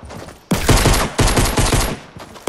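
Rapid bursts of close, loud gunfire in the video game Fortnite, with several volleys separated by brief gaps.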